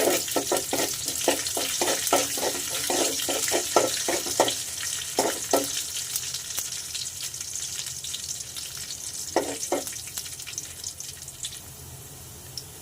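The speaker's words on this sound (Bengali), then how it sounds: "প্রথমে আমি কড়াইতে তেল গরম করে অল্প পরিমাণে পেঁয়াজ কুচি দিলাম" Chopped onion and ground cumin fry in hot oil in a wok, giving a continuous soft sizzle broken by bursts of scraping stirring strokes, with no voices.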